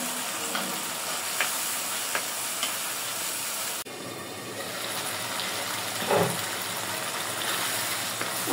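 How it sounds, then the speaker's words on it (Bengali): Potatoes sautéing with a cumin, coriander and dried chili paste in a pan. A steady soft sizzle runs throughout, with occasional stirring scrapes and no talk. "আগে একটু আলুগুলো কষাই নেব।"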